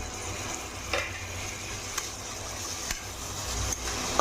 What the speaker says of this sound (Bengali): টমেটোটা অনেক ভাজা ভাজা হয়ে গেছে, আর এখানে গুঁড়ো করে রাখা ধনে আর জিরা দিয়ে দেবো।